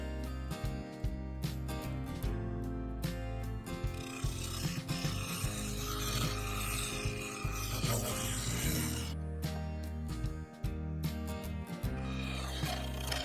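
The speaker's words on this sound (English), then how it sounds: "I cut down through each ring using a combination of the bowl gouge and the carbide cutter until I reach the base" Bowl gouge and carbide cutter cutting sapele wood on a lathe, a steady continuous rasping and scraping drone with rhythmic chatter, loud and close throughout with no talking.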